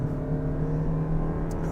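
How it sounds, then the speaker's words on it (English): A 2023 Toyota Prius Limited AWD hybrid sedan accelerates hard from 0 to 60, heard from inside as a steady, rising engine drone with a faint whine and no talk. "let's go ahead and test out what we can get 0 to 60 wise in this car"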